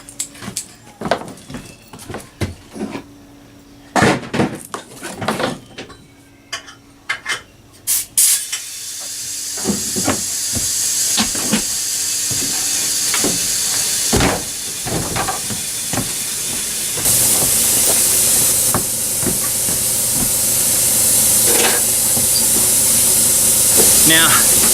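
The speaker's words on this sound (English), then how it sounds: "The airline. It's a little loud because it leaks" Steady hiss from a leaking compressed air line in a hot shop where a buggy lift kit is being built, running continuously and growing louder, with intermittent clanks and knocks plus some talking over it.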